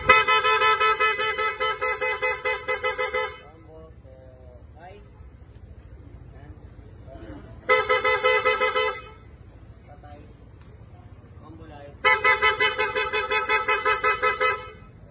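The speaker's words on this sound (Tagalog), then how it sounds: "Pag nag-busina" A Yamaha Aerox or NMAX scooter's horn sounds three times, each a long, loud, steady honk of one to three seconds, with quiet pauses and some talking between the blasts.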